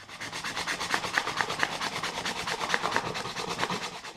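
Coarse 60-grit sandpaper beveling the wooden edge of a stool, rubbed back and forth in steady, quick rasping strokes, close and alone.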